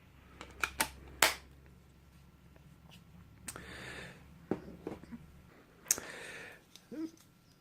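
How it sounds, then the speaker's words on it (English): Battery pack snapped into a Zartek ZA730 two-way radio with an aluminium chassis, giving several sharp, close plastic clicks and latch snaps separated by short handling rustles, alone with no talk. "The battery pack fits in, clicks in, has a battery latch."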